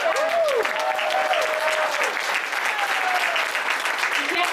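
Audience claps steadily in a crowd at an outdoor county Democrats picnic, a dense sustained applause with a few whoops and a voice briefly rising above it.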